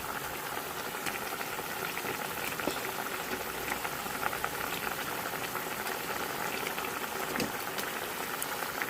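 A pot of helencha greens broth with green chillies bubbles at a steady, busy simmer while pieces of fried fish are added, the boiling sound even and close throughout.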